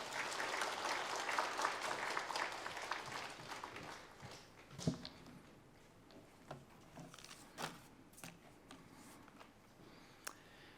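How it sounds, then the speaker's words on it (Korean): A church congregation applauds warmly to welcome a missionary, the dense clapping loud at first and then thinning into scattered claps as it fades. "큰 박수로 이또 선교사님 맞이하겠습니다."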